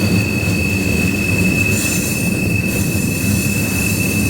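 Train wheels squeal in a high, steady whine over a constant rolling rumble as a train runs on the line between Klamath Falls, Roseville and Dunsmuir, loud and close throughout with no voices.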